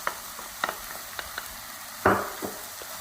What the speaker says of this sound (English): Now I'm going to quickly saute.